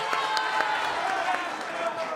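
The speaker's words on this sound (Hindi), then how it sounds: "आपका जोरदार तालियों से एक बार फिर अभिनंदन है" A television studio audience claps and cheers steadily for a guest on a Hindi news debate show, loud, close and sustained for the whole stretch.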